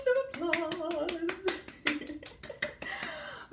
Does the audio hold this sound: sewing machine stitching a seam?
no